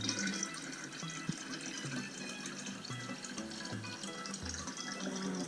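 Melted ice water is poured into a container, a quiet, continuous trickling and splashing with small gurgles, faint and close, with no voices.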